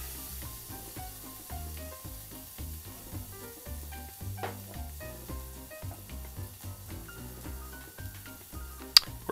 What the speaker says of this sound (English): The shallots go in, and then we just give it a stir.